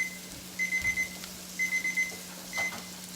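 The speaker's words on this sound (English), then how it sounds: "my timer's going off." A kitchen timer goes off during cooking, sounding three short groups of rapid high beeps over a low steady hum, followed by a lone beep.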